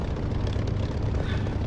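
Spitfire fighter's piston engine roaring steadily through its takeoff run down the runway in the DCS flight simulator, a loud, continuous low drone with dense rumble that never lets up.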